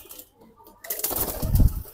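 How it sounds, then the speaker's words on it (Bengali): A large male pigeon of a military breed, starting with a quiet stretch before close, rustling wing and body movement and low cooing-like sounds for about a second. "এই দেখেন বিশাল বড় সাইজের কবুতর"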